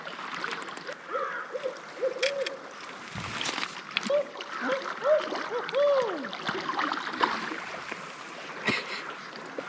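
An owl gives a string of wavering hoots near a lake, heard from a fishing boat. Water lapping, splashes and rustling fill the background.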